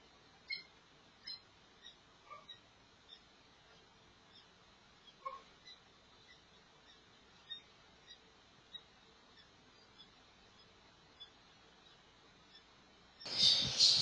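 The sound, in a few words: green opaline dun fallow lovebird crying call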